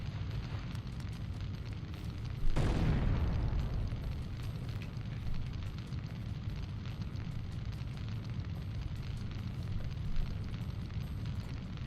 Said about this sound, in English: Now I got a cunt throwing grenades at me